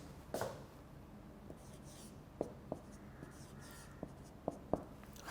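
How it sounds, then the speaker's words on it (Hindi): Chalk or marker taps and short strokes on a board during an English lecture, a scattered series of sharp ticks over a quiet room with faint background noise. "मैं इधर लिख देता हूँ"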